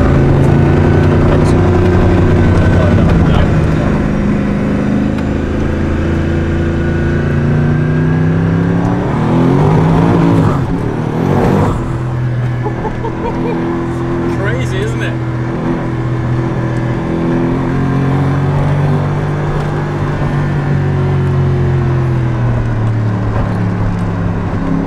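A Gumpert Apollo sports car engine drones and revs while driving, a loud steady rumble that rises and falls in pitch across the stretch, heard from inside the car, with speech likely present.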